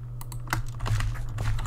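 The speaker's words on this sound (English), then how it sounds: "I'm sorry for my loud ass keyboard, by the way. It's pretty loud." Loud computer keyboard typing while playing Minecraft SkyWars: a rapid, uneven run of close, sharp key clicks over a steady low hum.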